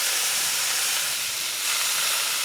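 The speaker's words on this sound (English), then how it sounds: "That's a beautiful sizzle." Kerrygold butter sizzling under Italian bread in a hot pan on a SmokeSlinger, a steady close bright hiss with no voices.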